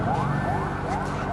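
Ambulance sirens wailing at the scene of a boiler explosion at a factory in Shah Latif, a steady rising-and-falling tone running loud throughout amid crowd noise.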